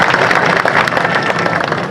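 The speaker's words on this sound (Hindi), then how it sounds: "एक बार जोरदार तालियों से स्वागत करें" A crowd at an outdoor Yadav community mahapanchayat gathering breaks into dense, steady applause welcoming a former minister, the clapping loud and continuous throughout with no voices over it.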